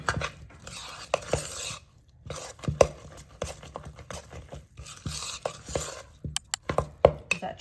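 A spoon stirs chocolate chips into no-bake mint chocolate chip cookie dough in a bowl, with irregular close scrapes and soft knocks, alone with no talking.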